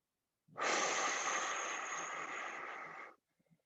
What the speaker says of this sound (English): One more big deep breath.